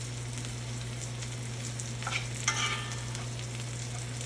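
A NY strip steak sizzles in a cast iron skillet with a steady, faint frying hiss over a constant low electrical hum, with a couple of brief louder crackles near the middle.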